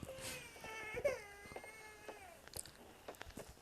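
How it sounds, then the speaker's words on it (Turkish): A baby cries in a rising, wavering wail with thin whimpers, close and fairly loud, sounding somewhat cat-like, with a few clicks and bumps around it and no talk. "Velet bebek ağlıyor gene."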